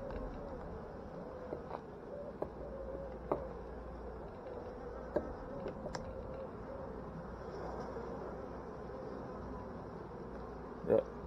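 Honeybees buzz steadily around a hive frame well filled with honey, a dense continuous drone throughout with a few faint knocks and a brief louder bump near the end.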